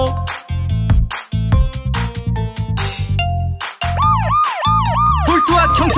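A police car siren wails in a bright children's cartoon song, its rising and falling tones repeating over bouncy music toward the end after earlier musical stabs, loud and upfront.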